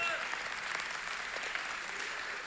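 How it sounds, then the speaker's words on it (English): Men's conference audience clapping steadily throughout, a dense, even wash of applause with no gaps or distinct individual claps. "Okay, yeah, we can clap again."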